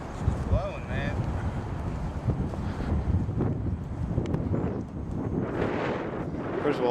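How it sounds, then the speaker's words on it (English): Strong wind buffeting a microphone outdoors on a blustery day where model aircraft are flown, a steady loud roaring rumble throughout with a few faint voice-like sounds over it. "It's a tad windy,"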